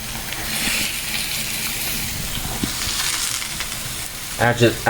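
Grilled cheese sandwich frying in a small pan, a steady close sizzle running throughout with a brief scrape or clatter near the end.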